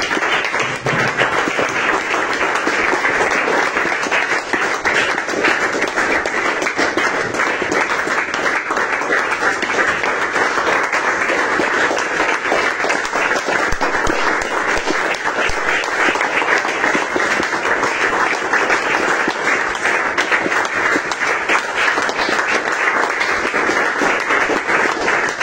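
A church congregation applauding steadily throughout, dense continuous clapping at a constant loud level with no break and no clear talk over it.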